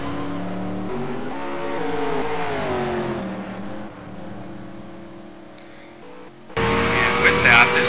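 Race car engines revving and shifting during a race, loud and close, with rising and falling pitch sweeps, a brief dip, then a sudden louder surge, under a commentator talking.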